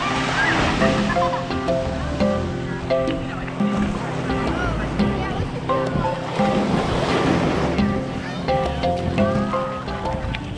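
Ocean waves and surf roll in at Capitola Beach, a crowded California resort beach. The surf and wind make a constant wash, with voices and beach chatter mixed in throughout.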